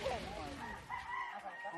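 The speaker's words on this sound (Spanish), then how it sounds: "traen un video de un hombre, de una pelea de gallo" A rooster crowing in a cockfight recording, a drawn-out wavering call heard faintly and somewhat distant, with a voice murmuring over it.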